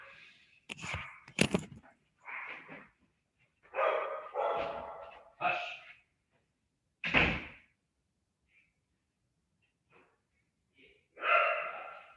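Dogs bark indoors in short separate bursts, loud and close, with pauses between volleys, while someone answers the doorbell for a package delivery.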